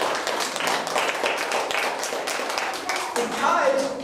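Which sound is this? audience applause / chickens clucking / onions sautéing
audience applause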